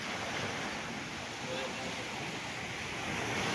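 A calm sea at sunset washes in a soft, continuous surf hiss, faint and even, with wind brushing the microphone and no distinct breaking waves.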